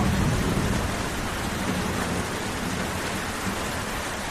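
Heavy rain pours steadily with a low rumble of thunder underneath, a dense and unbroken storm backdrop used as a sound effect in a Bengali audio story.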